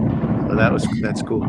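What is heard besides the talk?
fireworks going off in the distance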